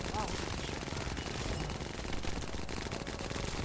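Rapid automatic gunfire in the shooter game The First Descendant, a dense continuous stream of close, loud shots.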